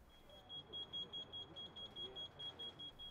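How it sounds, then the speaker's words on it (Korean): A carbon monoxide alarm sounds inside a closed tent with burning charcoal, giving a steady series of short, evenly spaced high beeps, roughly four per second, fairly faint over a low background rumble. "잠시 후 일산화탄소 경보음이 울립니다."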